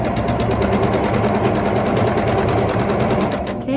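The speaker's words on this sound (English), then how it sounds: "I'm going to sew down that side. Sew those two pieces together." A sewing machine stitches two quilt fabric pieces together in a steady, rapid mechanical whir that runs loud and continuous before stopping abruptly at the end.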